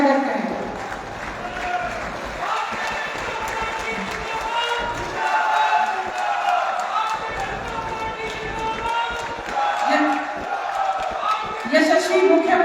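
A large crowd at a Vijay Sankalp election rally in Mahendragarh applauds to welcome the chief minister, a steady wash of clapping and cheering under a loud amplified voice speaking throughout.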